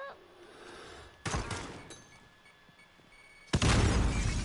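Gunfire in a shooter video game: two sudden loud blasts with crackling, debris-like tails, separated by quieter background noise and a faint thin tone.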